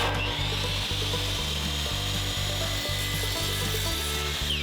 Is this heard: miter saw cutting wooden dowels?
yes